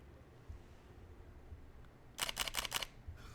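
An older camera fires its shutter in one quick burst of four or five crisp, close clicks over a quiet background, noticeably clackier and more spaced than a newer model.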